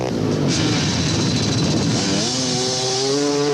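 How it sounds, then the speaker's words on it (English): KTM four-stroke rally motorcycle launching from the start of the Mafikeng 500, loud engine revving close by and rising in pitch as it pulls away, with faint crowd noise. "Next up, it's Alfie Cox on the big Katum. 4-stroke power transfers to the ground"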